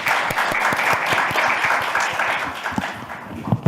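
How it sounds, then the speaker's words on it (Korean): An audience at a National Assembly forum on long-term care workers applauds as a lawmaker is welcomed, a steady, fairly loud wash of clapping that stays even throughout. "남인순 의원님 큰 박수로 모셔보도록 하겠습니다"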